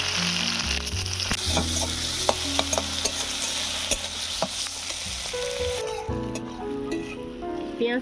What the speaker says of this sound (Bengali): এবারে পেঁয়াজগুলো ভেজে নেব